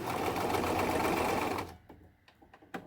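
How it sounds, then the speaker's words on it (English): A sewing machine back stitches a wig, running in a loud steady whir for about a second and a half before stopping, followed by a few faint clicks and handling sounds. "You still want to go back and back stitch it to lock it in."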